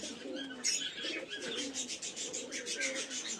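Pigeons coo steadily inside a loft in a Giribaz collection, a rhythmic run of soft throaty calls with light chirps mixed in, close and fairly quiet with no talking.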